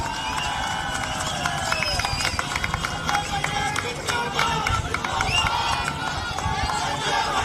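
Crowd of supporters cheering and clapping at an Aam Aadmi Party office to welcome Sanjay Singh, a loud, dense roar of voices and applause that holds steady throughout.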